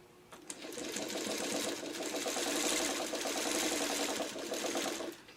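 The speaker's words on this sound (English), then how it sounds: "this 301A is such a nice machine to sew on" A Singer 301A sewing machine runs in one steady stitching burst of about four and a half seconds, a fast even mechanical whir and clatter heard close up with no talking.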